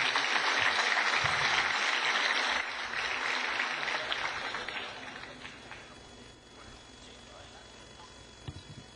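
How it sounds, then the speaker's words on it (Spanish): An audience at an academic conference panel applauds for a few seconds, the clapping fading out midway and giving way to quiet room noise with a few faint knocks and shuffles. "Recibamos a los tres académicos con un fuerte aplauso."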